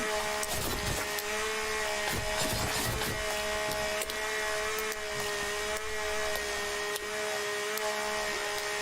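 A chainsaw runs continuously in the survival video game The Forest, a steady droning motor whine with sharp bursts of cutting noise near the start, close and loud with no talk.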